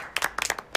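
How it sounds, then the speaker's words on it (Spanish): A few scattered claps from a small group gathered in the middle of a cooking-school event, about five sharp, uneven hits over less than a second, close and fairly quiet. "Venga, un aplauso."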